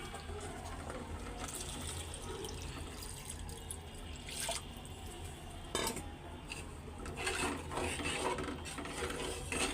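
Water added to dal frying in a home kitchen pan, a steady close wash of pouring and sizzling with a few sharp clinks of a utensil against the pot, no talking.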